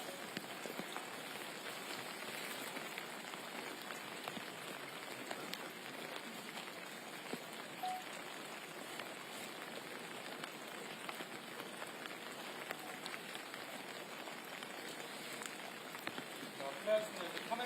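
Steady rain falls on a golf course during a KLPGA women's tournament round in wind. The even, hissing patter continues throughout at moderate level, with occasional voices underneath.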